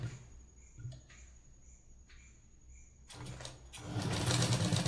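A sewing machine stitches a blouse in a quiet room: a faint, steady high whir with brief pauses, then a louder, busier run of stitching noise near the end, with no voices.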